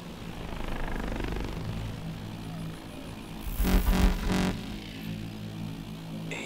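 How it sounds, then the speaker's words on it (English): An enemy drone in Call of Duty: Advanced Warfare buzzes overhead, its whirring hum swelling loudly for about a second mid-clip over a low ambient rumble before fading. "Drone, don't move."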